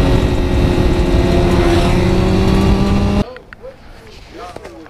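Motorcycles at a summer rideout, including sport bikes such as Kawasaki ZX 'Jixxers', Honda CBRs, a CBR954 and a KTM Duke 390, rumble steadily in a loud engine drone that cuts off abruptly, leaving faint talk and quieter background.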